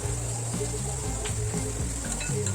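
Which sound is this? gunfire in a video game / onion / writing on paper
onion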